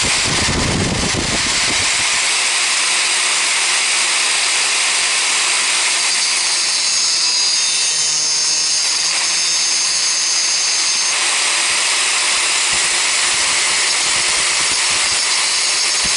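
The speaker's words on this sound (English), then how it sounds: "get an angle grinder, and very carefully I've got to come in this way first." An angle grinder cuts into a turned wooden Klein bottle on a wood lathe, giving a loud, continuous, harsh grinding roar that begins abruptly and runs steadily throughout.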